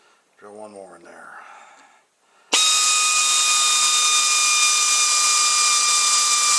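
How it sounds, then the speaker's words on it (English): A voice speaks briefly, then a power drill starts abruptly, drilling through the seat metal of a 2009 Pontiac G6 with a stuck seat recline, at a steady high whine, loud and close, continuing to the end. "Drill one more in there."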